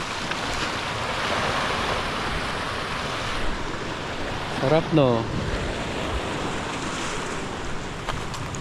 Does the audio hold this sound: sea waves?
yes